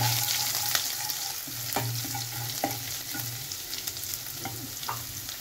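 Garlic frying in a pan with asafoetida while making muli paratha, a loud continuous sizzle up close with regular stirring scrapes and taps throughout.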